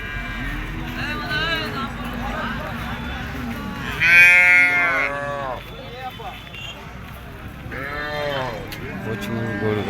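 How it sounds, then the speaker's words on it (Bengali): Cattle low repeatedly at a busy livestock market, several drawn-out moos rising near and loud around the middle and again later, over steady crowd chatter and people talking throughout. "এখানে সব রকম গরু আছে।"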